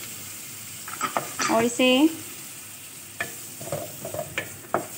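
Flour stirred and cooked in melted butter for white sauce pasta, with a low sizzle, scraping spoon strokes and a few light clicks against the pan, while someone speaks briefly at the start.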